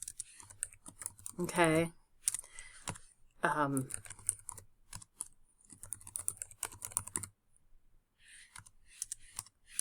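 Bursts of clicking keystrokes on a computer keyboard while typing into a Word document, steady and close, broken by short pauses, with someone speaking briefly between them.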